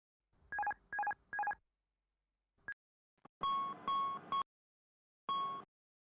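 An Airbus A320 cockpit alarm chirps during an electrical power failure: three quick electronic beeps, a pause, a brief tone, then longer repeated chime tones, clear and close in otherwise quiet surroundings.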